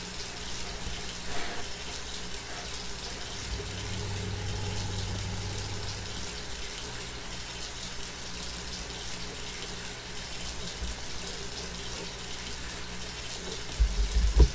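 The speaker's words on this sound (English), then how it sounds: "Let's go take a shower as well." Shower water runs steadily in a Roblox Bloxburg game as a continuous even hiss that holds at moderate level throughout.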